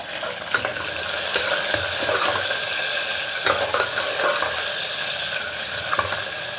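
Finely chopped onions and spices fry in a pan for paneer biryani, a constant close sizzle with occasional scrapes and knocks of stirring.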